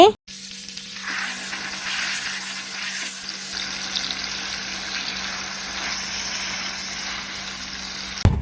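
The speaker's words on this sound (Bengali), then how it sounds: "এখন বাটার দিয়ে বেজে নিবে" A steak marinated in soy sauce, ginger, garlic, salt and pepper fries in butter, hissing in a loud steady sizzle close by after a brief quiet start, with a low hum underneath and no talking.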